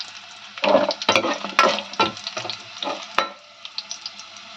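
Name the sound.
onions and green chilies frying in oil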